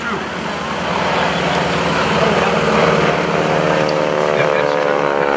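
Stearman biplane flying at an air show, a loud droning radial engine with a pulsing propeller buzz that swells slightly as it passes, with people talking over it.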